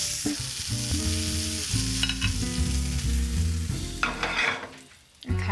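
Pork chops browning in a hot pan give a steady, close sizzle with crackling spatter, running under a louder layer of shifting tonal sounds like background music.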